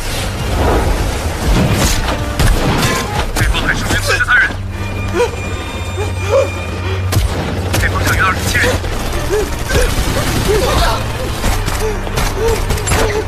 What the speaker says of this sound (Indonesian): terjadilah aksi baku tembak yang dilakukan oleh dua kelompok dari kubu yang berbeda